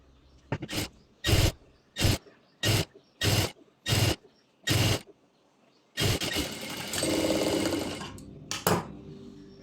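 A sewing machine stitches the hem of a palazzo pant leg in a series of short, loud, close bursts, then runs one longer continuous stretch followed by two quick final bursts, with no voices.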